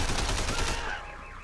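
Bursts of rapid automatic gunfire from the video game Sleeping Dogs, loud and dense in the first part, then thinning into a fainter echoing tail with no talk over it.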